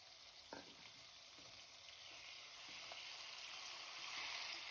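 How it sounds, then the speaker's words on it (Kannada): Marinated chicken sizzling as it is stirred into hot oil tempering for chicken biryani, a steady, fairly faint frying hiss with a few soft clinks and scrapes from stirring. "ಇವಾಗ ಕಲಸಿಟ್ಕೊಂಡಿದ್ದ ಚಿಕನ್ ಅಷ್ಟನ್ನು ಒಗ್ಗರಣೆಗೆ ಹಾಕಿ ಕಲಿಸ್ತಾ ಇದ್ದೀನಿ."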